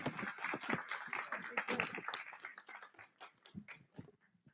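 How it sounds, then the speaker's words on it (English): An audience claps in a round of applause at a school board meeting honoring a student program, dense at first and then thinning into scattered, fading claps. "Let's give them one more huge round of applause, please"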